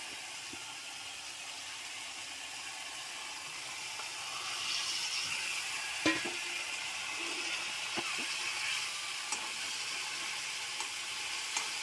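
Fish sizzles in hot oil as a continuous soft frying hiss, growing slightly louder partway through and broken by a few small pops and crackles, with no talking.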